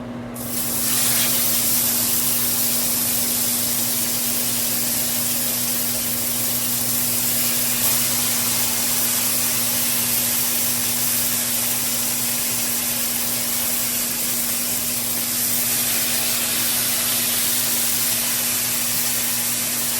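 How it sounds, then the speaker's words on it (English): Meat searing in olive oil in a pan, a loud, dense sizzling hiss that holds steady throughout, close up with no talking. "we are going to sear them and start the cooking with olive oil."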